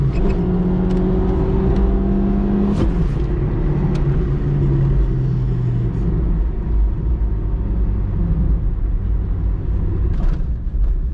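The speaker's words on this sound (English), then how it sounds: "Full throttle, 200 RPM, full throttle in the city." A 1992 Citroen ZX 1.4i with 75 hp pushed at full throttle through city streets, its engine droning loud and close with rising and falling revs over road rumble, plus a few sharp knocks.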